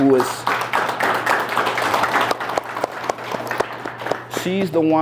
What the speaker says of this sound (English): I also want to have everybody give Mel a round of applause